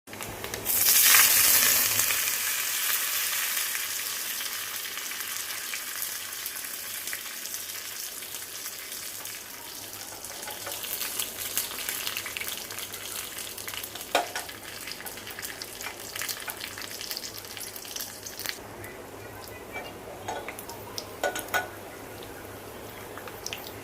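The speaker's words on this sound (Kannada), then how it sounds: "ನೆಕ್ಸ್ಟ್ ಒಗ್ಗರಣೆ ಪಾಡ್ಕ" Tempering spices hit hot oil with a loud initial hiss, then settle into a steady crackling sizzle with scattered pops and spits that carries on alone.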